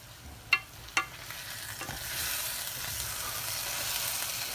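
Carnitas pork sizzling steadily in a pan after long cooking, a couple of sharp knocks near the start, then a broad, even hiss building and holding close by.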